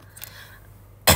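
A single short cough bursts out near the end, close and fairly loud, after a quiet, near-silent moment during a live stream.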